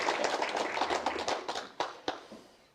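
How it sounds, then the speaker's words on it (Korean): A congregation at a Catholic charismatic prayer meeting in a parish church gives a brief round of thankful clapping, fairly faint and thinning out to a few last claps. "이 자리에 오셨으니까 주님께 감사의 박수 한번 올리겠습니다."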